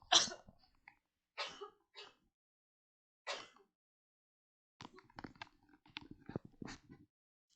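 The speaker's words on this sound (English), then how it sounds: "sorry, I'm going to cough." Several sharp coughs in quiet, three separate bursts, then a cluster of throat clearing and smaller coughs.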